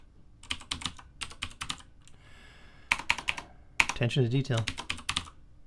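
Bursts of quick keystrokes on a computer keyboard while code is typed, clustered clicks with short pauses between, and a voice speaking briefly over the last part.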